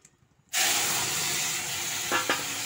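Fish dropped into hot oil tempered with bay leaf, cumin and radhuni bursts into a loud, sudden sizzle that keeps hissing steadily, with a couple of brief spatters near the end.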